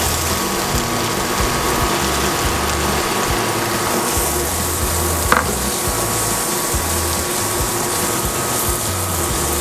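Onion sizzles in a hot pan, a steady loud crackling fry that carries on evenly throughout, broken by one brief sharp knock.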